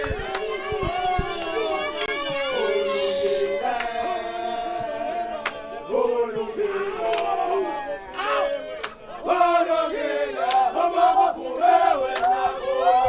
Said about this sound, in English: the crowd's voice is really warming us up this evening